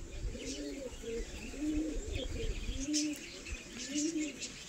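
New adult pigeons coo close by in a repeated series of soft, rolling calls, with faint chirps and light background noise between them.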